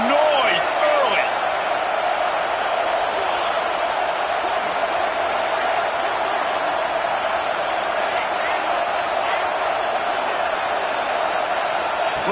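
Football stadium crowd cheering at a college game, a broad sustained roar of many voices that stays loud and even, with an announcer talking over it.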